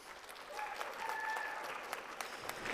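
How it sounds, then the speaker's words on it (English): An awards ceremony audience gives a sustained round of applause, steady scattered clapping at moderate distance with a faint bit of cheering mixed in. "It is now your turn to thank and honor your family and friends by showing them your gratitude and appreciation with a huge round of applause."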